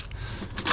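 A few metal keys clink and rattle up close as a pile of non-ferrous scrap is dug through, a short stretch of light jingling that brightens toward the end.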